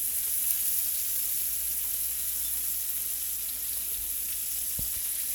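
Cube steak sizzles steadily in a hot pan, a soft continuous hiss with a faint knock near the end, no voices.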